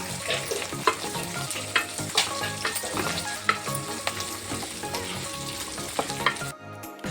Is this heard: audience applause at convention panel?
no